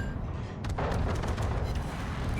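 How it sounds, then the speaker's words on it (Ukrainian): Naval gunfire in the World of Warships game, with repeated booming artillery salvos on a Harugumo destroyer, a dense rolling barrage of shots layered over continuous battle noise, loud and close. "Стріляй, стріляй, головне не переставай стріляти."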